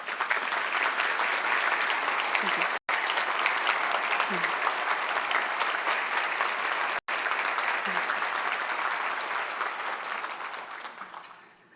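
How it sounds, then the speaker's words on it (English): Audience at a United Way community event giving a sustained round of applause, dense steady clapping that fills the room before tapering off, with a brief thank-you spoken over it. "Let's give these wonderful women a round of applause."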